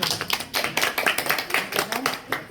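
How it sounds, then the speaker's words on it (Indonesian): A classroom group claps for the first group of presenters, with a short, uneven patter of hand claps at moderate loudness and a faint voice underneath. "Berikan aplaus untuk kelompok 1"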